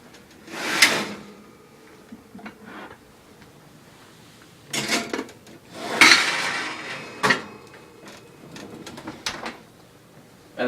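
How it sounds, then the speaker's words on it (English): A kitchen oven door is opened to bake a lidded casserole, producing a few separate close clunks and metallic knocks spread over several seconds with quieter handling noises between. "Open up your oven."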